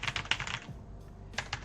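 Computer keyboard keys being pressed during a troubleshooting attempt, a quick burst of several close clicky taps followed by a short pause and two more presses, with no talking.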